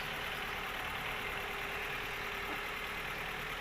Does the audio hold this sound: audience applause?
no